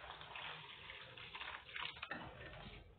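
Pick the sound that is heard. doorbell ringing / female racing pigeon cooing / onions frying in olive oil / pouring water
pouring water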